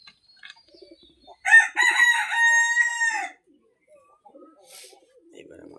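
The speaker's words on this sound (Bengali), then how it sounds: "এটা মোরগ, দেশি মোরগ।" A native rooster crows once nearby, a loud drawn-out cock-a-doodle-doo lasting about two seconds, with faint farmyard sounds and quiet rustling before and after.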